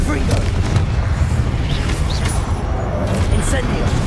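Booming blast of the Confringo spell in Hogwarts Legacy, a heavy low rumble sustained under game effects and a faint high whoosh.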